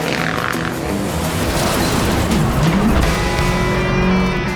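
A Skoda rally car drives hard on a rally stage, its engine roaring loudly and continuously with shifting pitch, tires scrabbling over the surface throughout.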